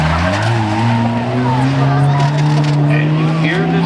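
Race car tires squealing under hard braking at the Waterford Speedbowl, a loud, sustained tonal screech rising slightly over several seconds, with engine noise and crowd ambience beneath.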